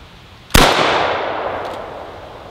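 AKM rifle fired once outdoors, a single loud sharp crack followed by a long decaying echo rolling away.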